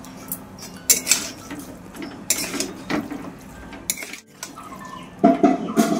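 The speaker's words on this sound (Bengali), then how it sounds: "ওনাদের জন্য একটু বাটিতে তুলে রাখি" Curry ladled into a small bowl, with close metallic scrapes, clinks and utensil knocks against pots and dishes in an irregular clatter through the whole stretch, no talking.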